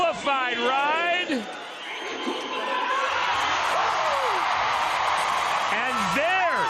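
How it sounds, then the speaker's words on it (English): A rodeo arena crowd roars and cheers after a qualified bull ride, with whoops and dense crowd noise building and holding loud for several seconds while an announcer talks over it. "there's the crowd reaction we wanted"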